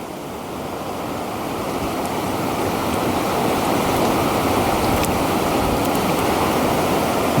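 Fast-flowing pocket water in a Montana wilderness mountain stream, a loud, steady rushing roar that swells slightly and then holds constant, with no voices.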